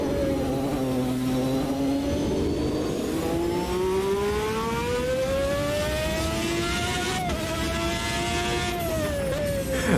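A race car engine in the Automobilista 2 driving game revs through raspy mid-to-low range revs, its pitch climbing steadily, with brief dips at gear changes, loud and continuous with no talking.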